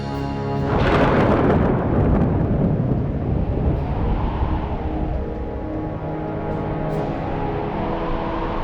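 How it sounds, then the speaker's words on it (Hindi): Stormy weather with sudden strong winds and crashing thunder: a loud rumbling burst near the start gives way to a sustained, dense roar of wind that carries on steadily to the end, with no talking. "ये अचानक से तेज हवाएं और बिजली क्यों कड़कने लगी?"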